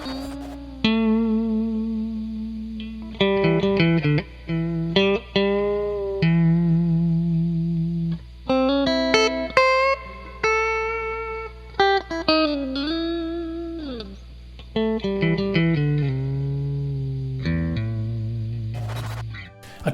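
A clean electric guitar through a Fender Hot Rod 4 amp plays single notes and chords with sustained ringing tones, a melodic phrase with gaps and varied pitches, slightly washed in reverb, with no voices.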